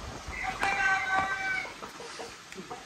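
Chickens being fed couscous cluck and squawk close by in a short flurry of overlapping calls, then quieter scattered clucks as the flock settles.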